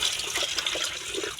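Water poured steadily over stored cassava peels, a close, continuous splashing and gurgling stream with no talk over it.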